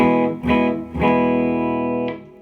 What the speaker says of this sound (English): Here's the guitar clean into the amp.